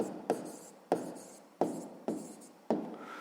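Pen strokes on paper during a sixth-grade maths lesson as an area-of-a-circle calculation is written down: five quick, evenly spaced scratchy strokes, each with a sharp start and a fading tail, close and fairly quiet.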